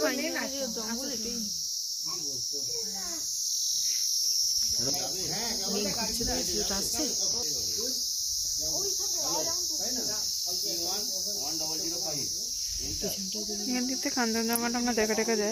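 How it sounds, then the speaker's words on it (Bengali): Crickets chirp in a steady high continuous trill at a quiet hill viewpoint near Kurseong, loud and constant throughout while someone talks over it. "ঝিঝির ডাকটা স্পষ্ট শুনতে পাবে।"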